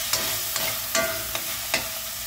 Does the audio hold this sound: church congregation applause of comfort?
no